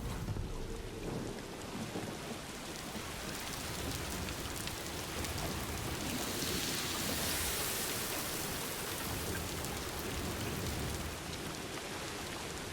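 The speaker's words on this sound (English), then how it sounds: "Well, that didn't take long for it to start raining." Steady, heavy rain pouring down in Death Stranding 2: On the Beach with a dense hiss, rumbling low thunder beneath it, and no voices.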